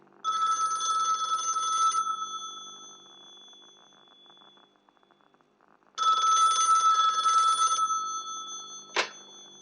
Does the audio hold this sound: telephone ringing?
yes